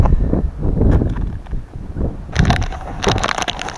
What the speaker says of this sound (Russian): Ветер страшный.